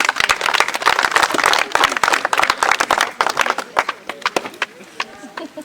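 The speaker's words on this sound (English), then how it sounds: "Oh, let's clap for him." A school audience at a Rwenzori High School literature event claps for a concerned parent, dense clapping mixed with crowd noise and voices, thinning into scattered claps toward the end.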